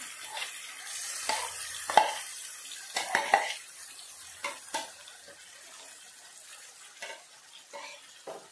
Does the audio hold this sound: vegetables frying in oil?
yes